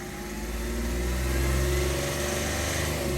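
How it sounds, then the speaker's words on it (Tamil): A Hyundai Xcent or Grand i10 diesel engine revs up toward 3000 RPM, a loud, close, sustained engine drone that rises and holds. "வேணுன்னா நான் அதிகபட்சம் 3000 RPM வரைக்கும் போகிறேன்."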